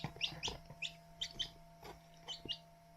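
Four newly hatched chicks chirp in quick, high, repeated peeps, close by and fairly loud, with short pauses between bursts.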